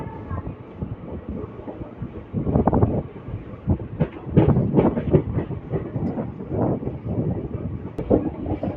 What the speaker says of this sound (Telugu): అటుపక్క పల్నాడు ఎక్స్ప్రెస్ వెళ్తుంది చూసారా